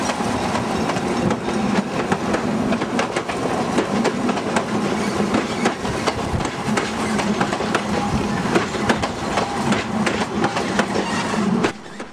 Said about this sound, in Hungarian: a vonat csak egy géppel jött